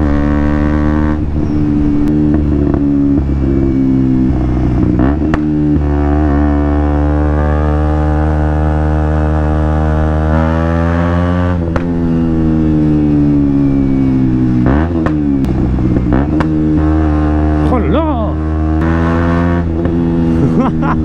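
A motorbike accelerates and revs on mountain roads, a loud close engine drone whose pitch climbs and drops repeatedly through gear changes, continuous throughout, with brief moments of voices under it.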